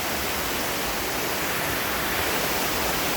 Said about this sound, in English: That's the falls, y'all.